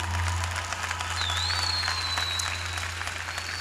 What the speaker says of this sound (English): Can I get an applause?